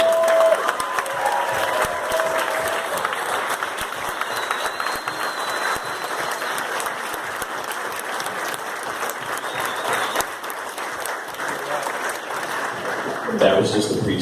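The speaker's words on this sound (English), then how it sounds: "I just want you to give a round of applause" An audience at a toast event applauds, a dense, steady clapping that fills the whole stretch at close range, with some cheering and a voice heard briefly near the end.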